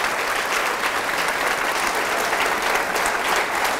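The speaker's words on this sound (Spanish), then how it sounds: "Fuertes aplausos al Señor por su amor y su misericordia." Steady applause fills a church service honouring the Lord, a dense, even wash of many hands clapping with no break, moderately loud and close, with no talk over it.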